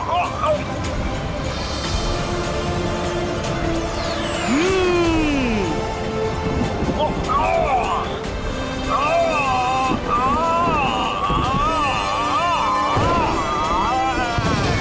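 A magic wind twister whooshes in a cartoon, with rushing air, rising and falling swept tones, and warbling magical effects layered in a loud, busy swirl.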